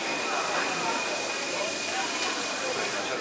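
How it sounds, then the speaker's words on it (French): A Paris metro train arrives at a station with a loud, steady rushing hiss and faint mechanical whine. Traces of voices sit beneath the noise. "Il y a le métro, filme le métro quand il arrive."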